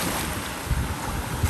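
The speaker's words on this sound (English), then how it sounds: "Oh, I wish these waves would slow down a little bit." Ocean waves wash onto a beach as the tide turns from low to high, a steady broadband roar with heavy wind buffeting the microphone and a couple of louder surges.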